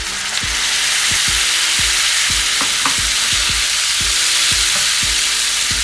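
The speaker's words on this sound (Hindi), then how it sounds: "अब मैं इसमें टमाटो प्यूरी डाल दूंगी।" Tomato puree hits vegetables sautéing in a pan over full flame, giving a loud, continuous, close sizzle with steady rhythmic stirring knocks beneath it.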